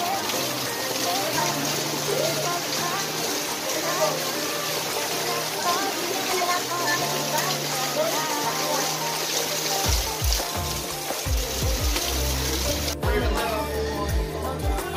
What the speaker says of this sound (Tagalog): Umuulan na, malakas ang ulan.